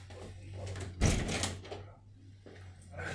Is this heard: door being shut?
yes